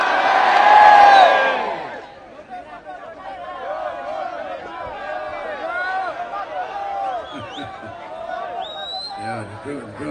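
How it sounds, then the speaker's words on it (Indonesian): A large audience at an Islamic religious gathering in Riau breaks into applause and cheering. A loud burst opens, then a sustained roar of shouts and whoops carries on from a big crowd. "Boleh kita berikan tepuk tangan Bapak Ibu hadirin yang berbahagia."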